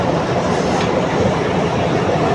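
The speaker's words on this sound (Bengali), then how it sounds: "এই রেড সিগন্যালটা গ্রিন সিগন্যাল হলেই ট্রেন ছুটতে শুরু করবে" A train at a railway station in Sripur, Gazipur, Bangladesh rolls along with loud, steady rumbling and wheel clatter, close and continuous, with no voices.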